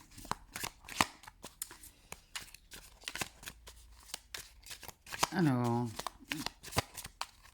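A Villeneuve tarot deck is shuffled and cut in quick riffling bursts with card snaps, running under a person speaking French throughout.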